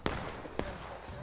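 Two sharp cannon shots in War of Rights, about half a second apart, each a short percussive crack with a brief low tail, fairly close.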